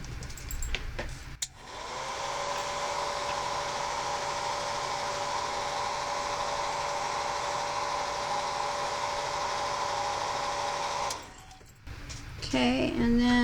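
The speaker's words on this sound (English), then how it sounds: "I like to use my hair dryer." A handheld hair dryer blows steadily to dry paint on a craft tag, a loud continuous whoosh with a constant whine that starts abruptly, holds for about nine seconds, then cuts off.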